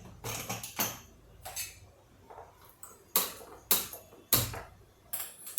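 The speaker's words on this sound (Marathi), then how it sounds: "पहिले हा कुकर बंद करून घेते" A metal pressure cooker lid is handled and shut, producing a series of bright clanks and scrapes in irregular bursts, some louder and sharper, with quiet gaps between.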